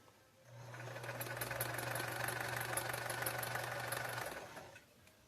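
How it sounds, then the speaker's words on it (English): Sewing machine stitching a diagonal seam across quilt pieces, a steady continuous whirring hum with a rapid rhythmic needle clatter that runs for about four seconds and then stops, heard close up. "There, and I just sewed a diagonal across."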